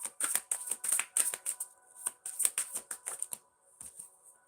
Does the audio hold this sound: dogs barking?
no